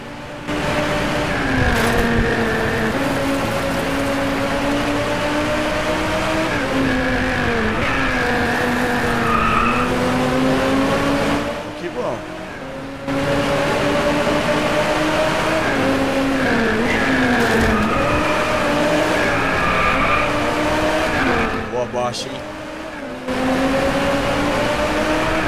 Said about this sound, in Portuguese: O barulho é louco, hein?